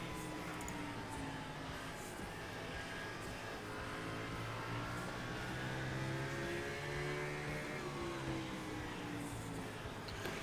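Race cars at Five Flags Speedway in a FARCA Premier Series race, engines droning and revving steadily as the pack circles the track, a continuous loud roar with no break.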